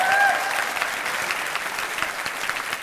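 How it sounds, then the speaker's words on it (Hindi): A studio audience at a televised political debate bursts into loud, dense applause that fades slightly but keeps going for a few seconds. "आप लोग यहाँ बैठ के जो उधर ताली बजा रहे हैं, मामला क्या है?"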